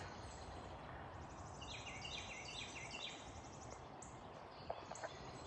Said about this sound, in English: That beautiful noise of the birds.